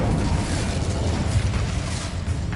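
Expulso explosion spell in a Harry Potter video game, a loud rumbling blast that sustains as a dense roaring boom with crackling debris throughout, close and heavy.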